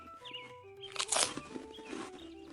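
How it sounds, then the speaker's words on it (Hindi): A cartoon jackal chews fruit with a crisp, wet crunching burst in the middle, then softer munching, close up, with other faint tones in the background. "सियार ने बड़े आराम से वो फल खाए।"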